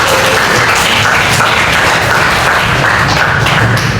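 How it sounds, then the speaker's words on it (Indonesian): A class of students in a classroom claps steadily and densely, a loud continuous patter of hands lasting the whole stretch. "Luar biasa, berikan tepuk"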